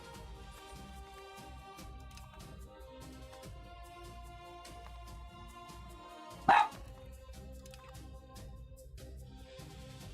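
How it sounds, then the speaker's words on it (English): A dog barks once in a short, loud burst at mid-distance while a steady bed of game music plays underneath. "Otherwise, dog's gonna bark non-stop."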